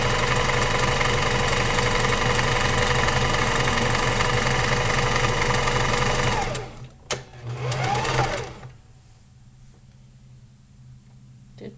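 A home sewing machine stitches fabric in a steady, fast mechanical whir for several seconds, then stops abruptly, leaving short handling noises and near silence.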